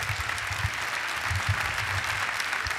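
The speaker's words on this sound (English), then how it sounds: "Give Jalea a big round of applause." A theater audience applauding, a dense steady wash of many hands clapping at moderate distance, unbroken across the whole stretch.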